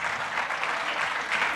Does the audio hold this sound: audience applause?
yes